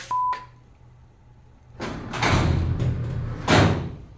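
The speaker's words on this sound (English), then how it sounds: "Holy crap, why is this door so heavy?" A heavy door is pushed open after a short beep, giving a long scraping, rumbling grind with a thud near the end, loud and close.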